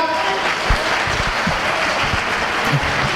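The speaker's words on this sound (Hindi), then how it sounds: "अपनी तालियों का घनत्व बढ़ाइएगा" Audience applause at a Hindi patriotic poetry recital, a steady crowd clapping with a few low thumps and light murmuring beneath it.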